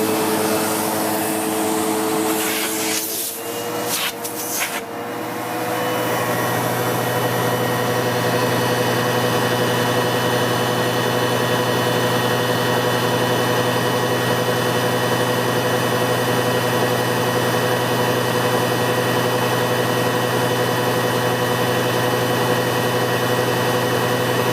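A SEBO X4 Extra upright bagged vacuum cleaner runs with its hose blocked by a hand, a loud steady motor drone with a strained whine after a brief muffled shift in the first few seconds.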